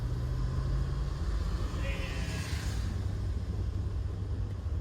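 A 1995 C4 Corvette with a 6-speed manual cruising along, a steady low engine rumble with road noise throughout, faint and continuous.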